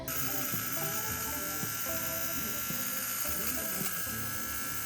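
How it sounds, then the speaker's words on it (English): An electric fabric shaver runs over a sweater to remove pills, a continuous buzzing motor whine with slight shifts in pitch as it moves across the knit. "I recently got a fabric shaver in the mail, so I wanted to try it out in this video to just show some like basic sweater maintenance."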